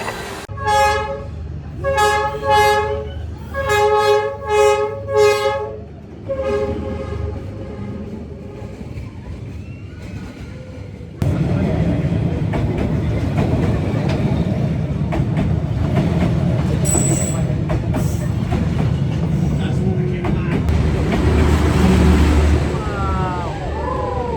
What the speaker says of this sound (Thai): เวลารถไฟมามันจะเหยียบ